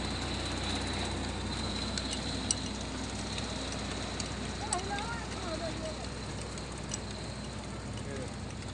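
A tractor-powered cotton carding machine runs in a village, processing old cotton into quilt filling with a steady, loud mechanical drone and faint ticking, while voices talk over it.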